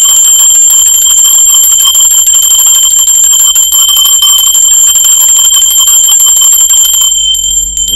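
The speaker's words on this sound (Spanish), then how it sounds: "Va campana, ser divino." A bright, high bell rings continuously with a sustained shimmering tone, loud and close, then stops abruptly near the end.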